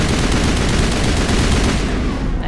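Dense, sustained gunfire in the video game Mass Effect Legendary Edition, a loud, continuous clatter of rapid shots filling the whole stretch without pause.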